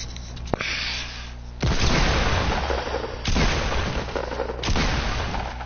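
Heavy booming blasts in Fortnite arrive one after another, three big explosions each followed by a long rumbling decay, loud and dense with only game noise between.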